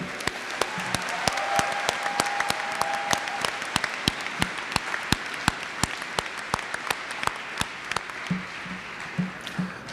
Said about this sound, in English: Let's give a big round of applause to our graduates again.